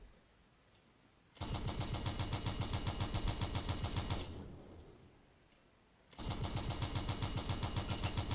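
Light autocannons loaded with kinetic ammo in the game Stormworks, firing in two long sustained bursts of rapid, evenly spaced shots, loud and close, split by a short pause as the first burst fades.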